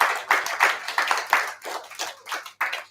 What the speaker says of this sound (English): thank you for give yourselves a round of applause